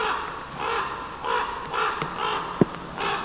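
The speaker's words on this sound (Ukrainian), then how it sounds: "Неподалік над нами кружляють круки." Ravens circling over a snowy forest and giving repeated hoarse caws at a steady, spaced rhythm, moderately distant, with one brief sharp knock partway through and no voices.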